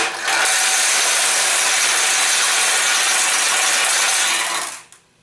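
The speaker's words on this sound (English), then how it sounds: "And the balls roll out." Steel balls pouring out of a Nishijin pachinko machine through its ball drain, a loud, dense, continuous metallic rattling clatter lasting nearly five seconds before stopping abruptly, with no voices.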